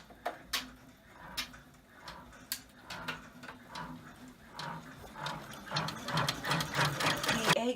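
Embroidery sewing machine stitching egg whites in white thread for free-standing lace earrings, a steady rapid ticking that builds from sparse clicks into a busier, louder mechanical chatter, close up.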